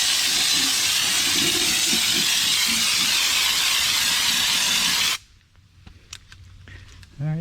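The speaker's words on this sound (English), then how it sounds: "Let's just kind of spray it out here. Oh yeah, just kind of mist it out there." Fluid Film rust-proofing spray hisses loudly and steadily from an aerosol can for about five seconds, then cuts off abruptly, leaving quiet with faint handling sounds.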